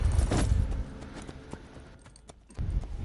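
Horse hooves clip-clop at a gallop in Assassin's Creed Brotherhood, a quick rhythmic run of thudding steps, fairly close, easing off midway before picking up again.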